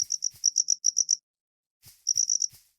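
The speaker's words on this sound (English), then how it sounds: "These crickets, I can't kill them yet," Crickets in the video game Salem give rapid, high, pulsing chirps in two clear bursts separated by a short silence. The chirps are crisp and close, with no talking.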